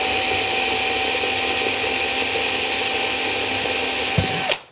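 A drill runs steadily through a raised wooden panel, a loud, close, continuous whine that holds its pitch and then cuts off abruptly at the end.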